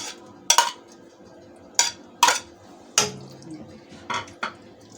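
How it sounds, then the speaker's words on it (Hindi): Capsicum and onion are added to a chicken manchurian pan, heard as a series of sharp metallic clanks and scrapes of a utensil against the pan, roughly six distinct hits with quiet gaps between, and no speech. "अब मैं इसमें अपनी ये शिमला मिर्चें और प्याज जो आप लोगों ने देखी थी ये डाल दूँगी।"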